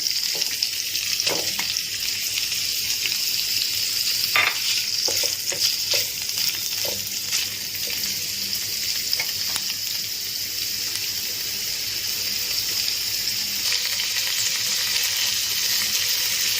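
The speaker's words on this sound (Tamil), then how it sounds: "கடாயில் எண்ணெய் ஊற்றிருக்கேன், இதில் டோஃபு போட்டுடுறேன்." Tofu fries in a little oil in a kadai, a steady close sizzle with scattered sharp pops and crackles over a constant hiss and no talking.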